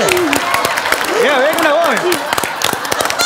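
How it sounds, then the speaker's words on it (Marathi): A studio audience at a Marathi comedy show claps steadily in a continuous patter, with someone speaking loudly over the applause throughout. "टाळ्या थांबू आधी."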